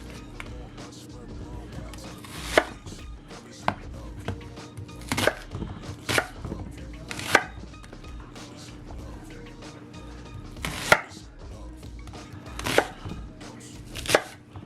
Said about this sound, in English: Cutting things pretty thick, big chunks, because it's going to be cooking for a long time.